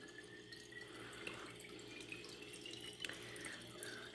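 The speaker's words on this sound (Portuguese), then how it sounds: "o mais importante é encher o copo de água" A tap runs into a glass, filling it with water in a soft, steady trickle and light splashing, close by and quiet, with faint drips and no talking.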